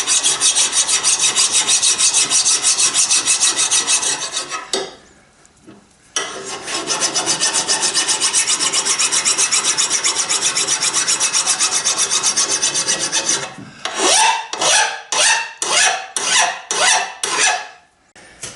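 A metal file rasps along the edge of a Stanley hand plane being restored, with long continuous strokes, a short pause, then a quicker series of separate strokes near the end, close and loud with no talk.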